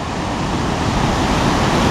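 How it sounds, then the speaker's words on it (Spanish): Ocean waves breaking on the shore at Vigo, Spain, forming a steady, loud, close rushing roar of surf with no voices over it. "Mirad qué pedazo de olas"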